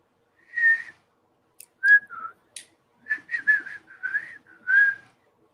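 A person whistles a halting, breathy tune up close, a few short notes with pauses, then a longer wavering run of pitches.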